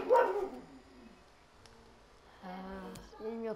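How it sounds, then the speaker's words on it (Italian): A pet dog barks a few times in a home, with short harmonic yaps clustered near the end, fairly close but moderate in level; a brief murmur of voice comes at the start. "Il mio cane abbaia come al solito."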